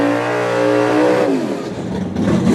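A Corvette's engine revs hard at a drag strip, a loud, close, steady roar whose pitch holds and then drops and wavers as the revs fall away.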